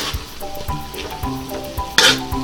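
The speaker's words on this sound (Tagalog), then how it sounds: "Hahaluin lang po natin to hanggang sa maluto yung ating broccoli." Shrimp and broccoli sizzle in a hot pan while a utensil stirs them, with rhythmic scrapes and a sharp metallic clink near the end, close and loud with no talking.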